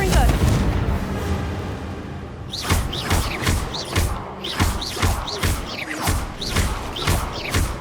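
In the video game Hogwarts Legacy, a Confringo explosion spell is cast again and again, producing a quick run of deep, booming thuds at a roughly even pace over layered game sound.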